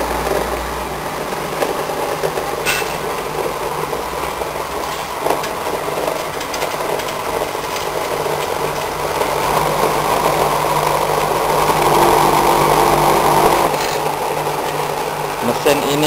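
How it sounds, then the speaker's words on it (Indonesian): A tofu soybean grinding machine runs continuously with a steady rattling mechanical clatter and grinding noise, loud and close, slightly building toward the end. "Mesin ini mampu menggiling 25 kg per menitnya."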